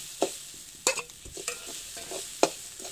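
Grated coconut with fenugreek seeds roasts in a pan for sambar, giving soft crackles and scraping stirs with a few sharper clinks, close and fairly quiet, with no voices.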